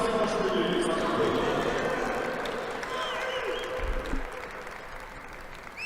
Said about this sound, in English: Big round of applause for Kisilashvili.